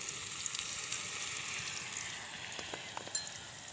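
Noodles fry with soy sauce in a pan, a soft, steady sizzle scattered with faint pops and crackles, quiet and without voices.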